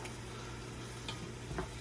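Cajun trinity vegetables sauté in a pot on the stove, a faint steady sizzle with a couple of soft stirring scrapes and no talk.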